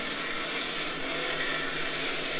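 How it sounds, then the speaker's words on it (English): A stepper motor runs continuously while vibrating heavily against its mounting, making a steady, dense buzzing whir that holds an even level throughout without pauses. "there's quite a bit of vibration going on, and the motor did want to move about"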